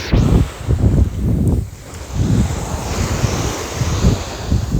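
Sea waves wash onto the shore at a campsite beach in Omiš on a cold, windy day. Steady surf rolls in and out with swelling and receding surges under heavy wind noise on the microphone.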